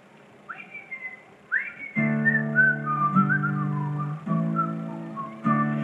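A person whistles the Irish folk tune Waxies Dargle, starting with a few rising phrases alone, then continuing the melody clearly over a loud, sustained chordal accompaniment that stops and restarts twice.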